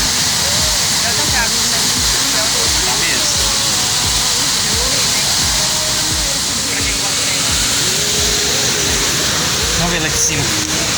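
A waterfall at a Brazilian club's cascade roars steadily and loudly, a continuous broadband rush of falling water, with people talking faintly underneath.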